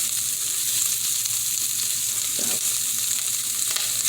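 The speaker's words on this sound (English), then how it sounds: "we're going to start dropping our sausage in" Balls of Italian sausage fry in a very hot skillet with no added fat, giving a steady close hiss and sizzle with occasional faint stirring clicks.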